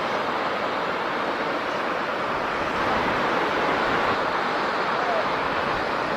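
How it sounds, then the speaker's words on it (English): Rapids on the Zambezi River, on the Zimbabwe side, give a steady, dense roar of rushing whitewater that stays constant and unbroken throughout, with no voices over it. "These are the same rapids"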